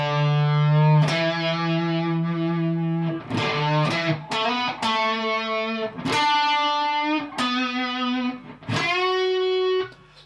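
Distorted electric guitar plays a solo, sustained bent notes and short phrases with a thick effects-laden tone, loud and close, no talking.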